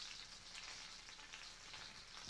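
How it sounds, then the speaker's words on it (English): Quiet, steady sizzling of salmon frying in butter in a pan, a soft crackling hiss that continues evenly throughout. "Now we'll just add the fish to the pan."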